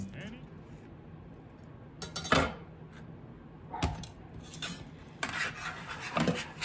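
Two Granny Smith apples dropped into a saucepan in a home kitchen, giving a few separate knocks and clatters against the metal pan, spaced over several seconds with low room noise between.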